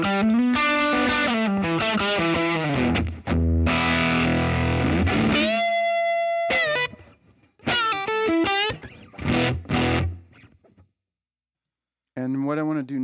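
Electric guitar played through the Tweed amp model of a Line 6 Helix running firmware 3.15, giving loud, driven, distorted chords and single notes in bursts separated by short pauses, with a final short phrase after a silent gap.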